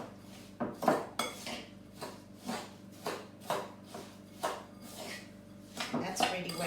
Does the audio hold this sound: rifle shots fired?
no